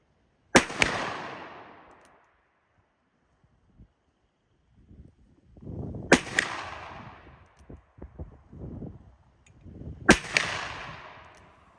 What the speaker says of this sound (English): We are now shooting a 357 Magnum.